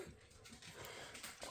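A dog pants quickly and breathily up close, short rhythmic huffs with a faint snort, no voices.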